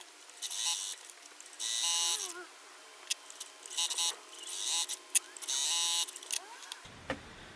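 Short bursts of a sewing machine's buzzing motor stitch quilt fabric pieces for half-square triangle blocks, starting and stopping repeatedly at close range, with occasional voice sounds.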